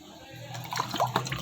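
Water poured into a cooking pot of karela gosht with spices, a short splashing, gurgling pour with liquid bubbling close by, growing livelier toward the end.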